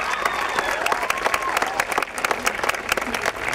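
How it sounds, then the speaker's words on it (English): Sustained audience applause fills a graduation ceremony hall for an eighth-grade graduate, dense and steady clapping from a large crowd with a faint voice drifting through underneath. "Please give a big round of applause for Selena Ortiz."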